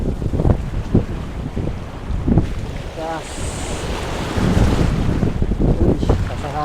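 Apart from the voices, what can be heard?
wind blowing on a fishing boat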